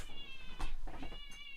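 A cat outside meows insistently and close by, several drawn-out tonal cries in a row with short gaps between them.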